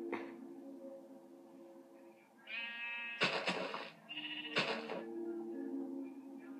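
Sheep in the video game Minecraft bleat a few times, short wavering calls over a steady game background with no talk.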